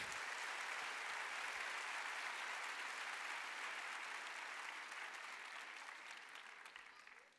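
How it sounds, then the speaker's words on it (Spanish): A church congregation gives sustained, dense applause at a night service. The clapping stays even and steady for several seconds, then fades toward the end. "Denle el mejor aplauso al Señor en esta noche."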